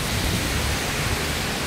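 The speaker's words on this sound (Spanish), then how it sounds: "Tenemos una lluvia moderada en este momento," Steady moderate tropical rain in a Central American winter, with gusting wind. It is a dense, even hiss throughout with low rumbling swells, and no voices.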